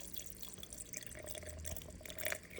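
Water is poured into a sourdough starter, a quiet close trickle with faint drips and splashes and no talking.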